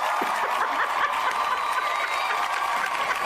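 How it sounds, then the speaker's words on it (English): Applause and light cheering from an audience on a political talk stream, a steady, diffuse patter of many hands that stays at an even level throughout, fairly close and without voices over it. "Y'all give Kamala Harris a round of applause."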